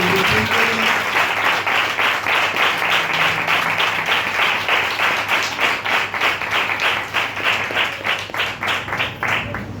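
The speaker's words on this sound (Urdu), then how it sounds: "تو میں آپ سے ریکویسٹ کروں گا کہ پاسٹر جاوید کے لیے زوردار تالیاں لگائیں گے" Sunday service congregation giving loud sustained applause in a church, dense rapid clapping from many hands filling the room, steady throughout and slightly thinning toward the end.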